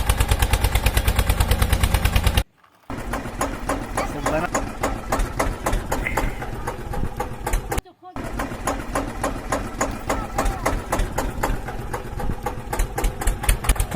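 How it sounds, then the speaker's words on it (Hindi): A small toy DIY tractor engine chugs in a rapid, steady mechanical rattle while stuck in mud, close and loud, with two brief cutouts. "अरे ट्रैक्टर फंस गया है, जल्दी से आओ।"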